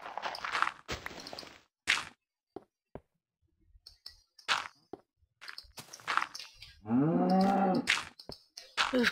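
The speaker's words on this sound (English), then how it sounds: "Oof, cow." A cow in the video game Hills of Moo lets out one loud, drawn-out moo, surrounded by sparse clicks and footstep-like taps in an otherwise quiet stretch.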